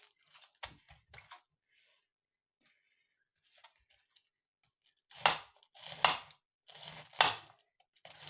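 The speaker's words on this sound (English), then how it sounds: "I'm just going to slice this very thinly." A knife thinly slices cabbage for Polish-style sauerkraut: a few soft, scattered cuts at first, a pause, then three loud, dense bursts of crisp slicing close by.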